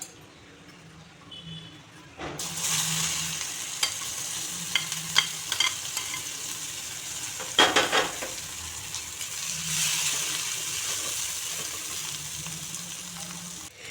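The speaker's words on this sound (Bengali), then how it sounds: "পেঁয়াজগুলোতে সামান্য পরিমাণে নুন দিয়ে দিচ্ছি, তাহলে পেঁয়াজগুলো খুব তাড়াতাড়ি ফ্রাই হয়ে যাবে" Two medium-sized chopped onions frying in oil with a little salt: a steady sizzle starts after a quiet moment, interrupted by light spoon clinks and stirring scrapes, close and moderate in level, with no voices.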